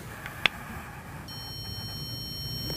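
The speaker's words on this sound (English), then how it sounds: "the unit will beep to indicate a calibration error" A StudSensor E50 stud finder signals a calibration error: a faint sharp click, then a thin steady high electronic tone that holds to the end over quiet background hiss.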